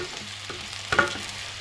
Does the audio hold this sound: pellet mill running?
no